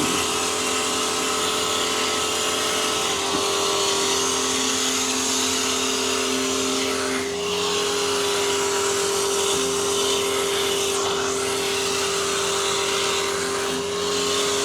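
A DeWalt 2600 PSI jobsite pressure washer runs with a foamer attached, its motor holding a steady tonal whine under a continuous hiss of spray for the whole stretch.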